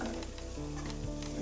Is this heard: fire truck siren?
no